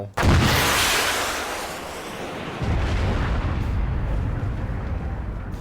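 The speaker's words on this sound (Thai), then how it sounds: "โอเคฮะระเบิดแล้ว" A sudden heavy blast from a vehicle exploding in a video game erupts and rolls into a long rumbling roar that swells again midway and keeps going without letting up.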